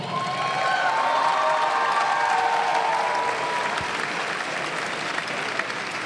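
A crowd at a women's boxing tournament applauds and cheers the fighters after the bout, a dense continuous wash of clapping with some cheering mixed in, sustained and fairly loud across the whole stretch.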